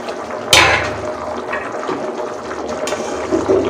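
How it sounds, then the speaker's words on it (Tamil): Rice and water boil in a pot of bachelor-style veg pulao, giving a steady bubbling hiss, with a sharp knock near the start and another later. "ரைஸும் தண்ணியும் நல்லா கொதிச்சுக்கிட்டு இருக்கு"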